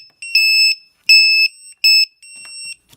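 An ISDT BC-8S battery checker sounds its lost-model alarm: loud, piercing high-pitched beeps in four bursts of about half a second each, evenly spaced and close up, with no talk.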